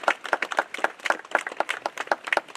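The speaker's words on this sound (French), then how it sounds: "on peut surtout les applaudir s'il vous plaît" An audience claps at a funeral tribute: a small group's hand claps, close and brisk, in a quick, uneven patter that lasts the whole stretch with no voices.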